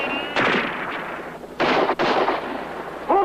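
Gunfire from a TV drama scene, several sharp broadband shots in quick bursts at irregular intervals, loud and close, with a brief voice-like tone at the end.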